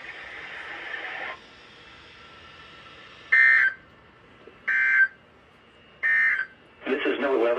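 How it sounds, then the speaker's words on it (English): NOAA Weather Radio weekly warning alarm test: a long steady tone, then three short beeps spaced about a second apart, followed by a harsher broadcast burst, all heard as a clear radio signal. "Receipt of the warning alarm tone will vary at any given location"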